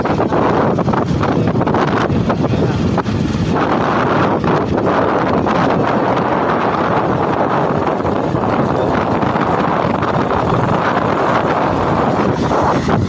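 Strong wind roars into the microphone while riding a motorbike along a town road in rainy weather, a loud, unbroken buffeting rush that covers everything for the whole stretch.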